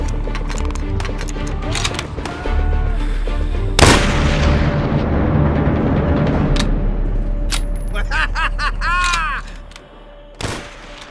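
A sniper shootout in the video game World at War: sharp rifle shots and booming reports over a droning game soundtrack, with one loud crack partway through and another near the end.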